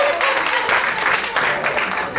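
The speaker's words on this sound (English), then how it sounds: "Give him a round of applause." Audience applause for a man at a Black History storytelling talk, a sustained round of clapping from a crowd with a faint voice mixed in.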